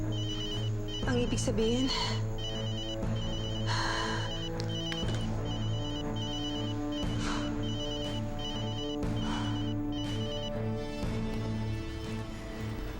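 A telephone rings with an incoming call, a steady repeating electronic bell pattern under a musical drama score, while someone speaks briefly over it.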